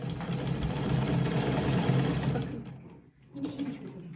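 A black-head sewing machine runs without thread with a fast, steady mechanical chatter for a couple of seconds, stops briefly, then starts again more softly.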